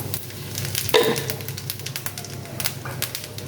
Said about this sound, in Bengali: তো দেখো তেজপাতা, শুকনা মরিচ, আর জিরা, গোটা মশলা আমি দিয়ে দিব ফোড়ন।